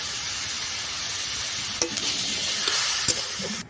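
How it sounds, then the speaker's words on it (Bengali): Beetroot, carrot and peas stirred in a hot pan with salt, a constant bright sizzle punctuated by a couple of spoon scrapes near the end, close and fairly loud, no voices. "লবণটা দিয়ে এটাকে নাড়াচাড়া করলে বিট গাজর থেকে জল বেরিয়ে যাবে"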